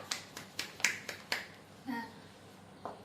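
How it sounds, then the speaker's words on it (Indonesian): A primary-school class giving a student group a brief round of applause in an Indonesian classroom, heard as a handful of sharp, scattered claps, fairly faint and thinning out after a couple of seconds. "Beri tepuk tangan dulu untuk kelompok 4."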